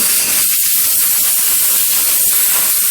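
Compressed air blasts over underwater pelletizer parts during cleaning, a loud, steady, broad hiss that carries unbroken for about three seconds with no voices.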